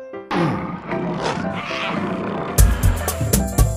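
A lion roars loudly and close, a drawn-out growling roar that swells and then breaks into rougher, punchy bursts near the end, with no one talking over it.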